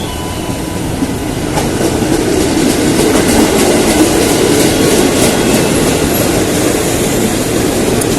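An Indonesian commuter train on a busy Jabodetabek line rushes past close by, a loud, steady rolling roar with rhythmic clickety-clack of wheels over rail joints and a faint wheel squeal, no voices.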